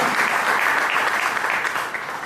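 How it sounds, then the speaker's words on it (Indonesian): A church congregation claps during a Sunday worship service, with dense, sustained applause from many hands that stays steady and loud throughout, with no talking. "Mari kita tepuk tangan untuk Tuhan."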